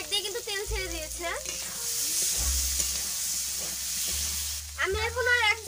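Spiced masala frying in oil in a pan hisses steadily under a voice, with a low background hum and occasional stirring scrapes, close by.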